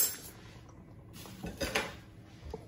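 Fruit cake batter is mixed in a bowl, with soft clinks and scrapes of a utensil against the bowl. Quiet at first, then a few louder knocks and clatters come near the end.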